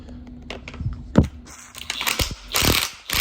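A ratchet with a 32 mm socket working a nut loose on the rear end of a BMW E46, giving a few close, sharp clicking bursts separated by short pauses.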